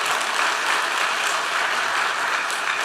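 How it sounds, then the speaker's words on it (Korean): A church congregation at a Sunday morning service applauds the arriving pastor with sustained, even clapping from many hands and no talking. "목사님 나오실 때 큰 박수로 환영하도록 하겠습니다"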